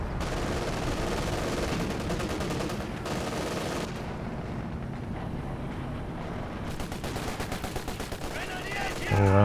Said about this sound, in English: Double LMG grenadiers making short work of those sections.